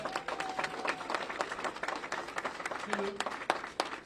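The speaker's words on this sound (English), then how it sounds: "Give them a round of applause, please" Applause from a campaign event audience honoring grieving campaign workers, steady clapping with scattered individual claps standing out, with a faint voice and brief tones in the background.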